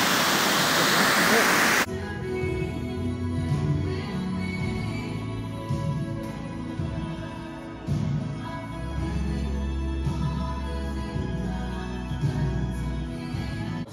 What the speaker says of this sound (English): flow of water